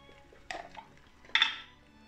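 A seasoned mixture with nutmeg is stirred in a bowl, giving two short clinks and scrapes of a utensil against the dish, close and moderately faint, with nobody speaking.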